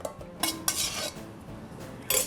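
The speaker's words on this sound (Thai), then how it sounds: "เราก็เอาซี่โครงหมูมาเทใส่หม้อที่เราจะใช้ตุ๋นค่ะ" Marinated pork ribs tumble into a stewing pot with a few clattering knocks and rattles of metal, close and fairly brief.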